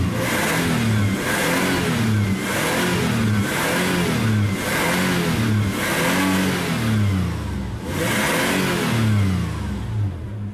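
The engine of a 2002 Toyota 4Runner in a junkyard runs loudly and revs repeatedly, rising and falling in pitch about every second, close by with no talking.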